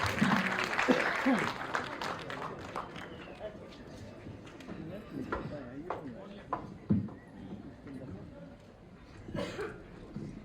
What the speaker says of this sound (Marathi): जोरदार टाळ्या अमृतासाठी